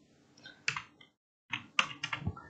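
Keys on a computer keyboard are pressed to steer a remote-controlled robot car, two short clusters of crisp clicks separated by a brief pause, close and quiet with no talking.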